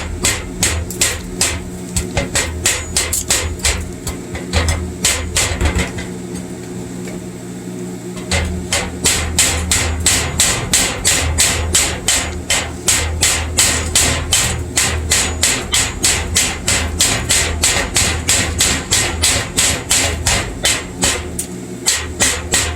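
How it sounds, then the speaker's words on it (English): Welding slag being chiseled off metal with a hammer, a long run of sharp, rapid metallic strikes in steady rhythm, close and loud, with a short lull partway through. "Now I'm going to chisel it off."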